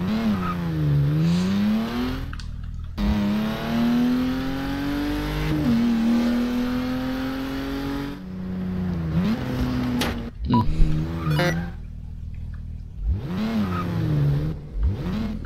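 A car driven in Garry's Mod police roleplay, its synthetic engine note rising and falling with repeated revs and gear changes, loud and close with short breaks between pulls.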